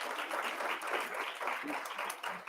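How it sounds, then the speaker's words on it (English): Audience applause at a youth summit session, a steady broadband wash of clapping that runs continuously throughout at moderate, even loudness. "A round of applause."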